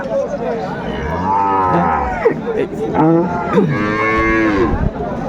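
Cattle moo loudly and repeatedly at a livestock market, long drawn-out calls from cows and calves overlapping one another nearby, with faint crowd murmur in the background.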